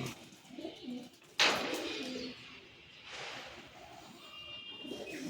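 Imported Pakistani, Madrasi and Giribaz pigeons coo softly while being handled for sale, with a sharp rustling burst partway through and quiet background bird calls throughout.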